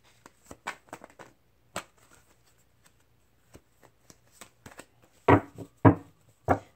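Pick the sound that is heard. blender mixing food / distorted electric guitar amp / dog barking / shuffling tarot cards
shuffling tarot cards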